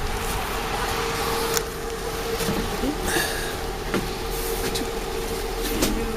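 A city bus in Hawaii, heard from nearby as a steady engine rumble with a constant whine and occasional clanks and hisses, no talk.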